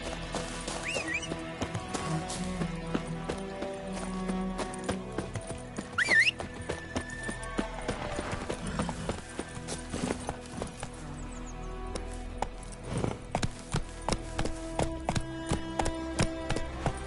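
Roach, a horse in The Witcher 3: Wild Hunt, trots with steady, close clip-clop hoofbeats running throughout, over game music and ambience, with a brief whinny partway through.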